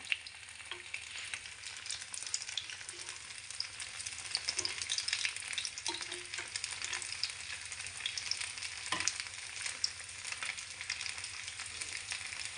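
Leftover rice snacks sizzle steadily in a pan of hot oil, a close, continuous crackling fry with occasional stirring or turning and no voices over it.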